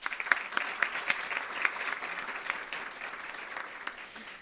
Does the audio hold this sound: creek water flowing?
no